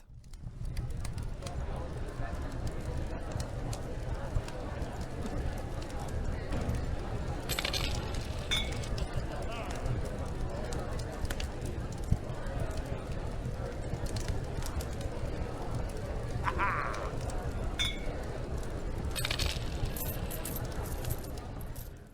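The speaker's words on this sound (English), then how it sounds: "some doofus laughing hilariously, clanging bottles, and coins being exchanged" Busy tavern ambience with a dense steady murmur of crowd noise, scattered bright clinks of bottles and coins being exchanged rising above it at intervals, continuous throughout.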